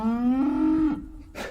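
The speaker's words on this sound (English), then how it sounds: "we got some cows again, Kawasaki," A single long, close cow moo rising slightly and holding steady for about a second before trailing off, followed by a short breathy noise.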